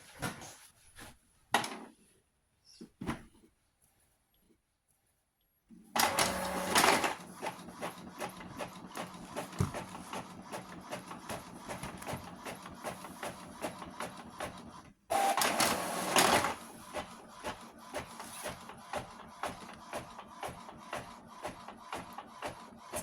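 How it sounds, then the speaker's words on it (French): A sublimation printer runs a print job in mirror mode, starting with a few scattered clicks before settling into long stretches of steady mechanical whirring and shuffling, broken by a brief pause and a louder burst partway through. "Mon imprimante est allumée, je lance l'impression"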